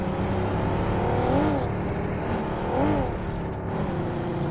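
A car engine races and revs in the mobile battle royale game BGMI, the pitch sweeping up and down twice over a continuous drone, with no talk.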